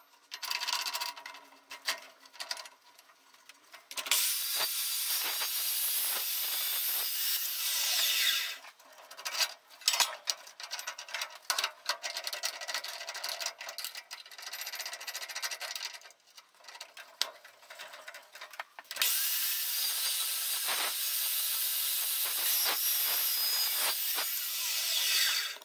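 An 8.5-inch metal cutting saw slicing through steel angle, with two long bright high-pitched cutting passes separated by quieter clatter, spinning down and handling noises between cuts.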